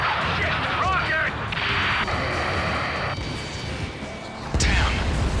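A rocket explodes during a combat rescue mission in the game Ace Combat 7, a loud, close blast amid continuous heavy battle roar, with a sharp fresh burst near the end.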